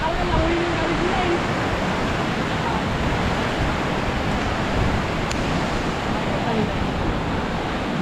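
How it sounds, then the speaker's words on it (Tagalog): Loud, steady rush of a fast-flowing, flood-swollen river after a typhoon, filling the whole clip, broad and unbroken, close by. "mas malakas ng agos ng tubig dito"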